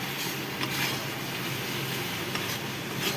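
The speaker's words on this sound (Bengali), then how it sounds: "মশলাটা একটু ভেজে ভেজে নিচ্ছি" Spices fry in hot oil in a home kitchen pan, a steady close sizzle with scraping stirring strokes running evenly throughout.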